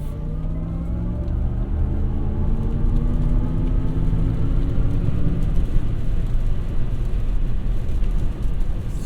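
A Chevy Blazer EV drives on a road near Road America, giving a steady close whir and road rumble with a few rising and falling tonal sweeps, continuous and without talk.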